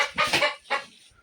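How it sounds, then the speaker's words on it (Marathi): A chicken clucks near a temple in rural Konkan, two short bursts of close, loud clucking with a brief pause between, no talk over it. "इथे बघ कोंबडी आहेत वाटते"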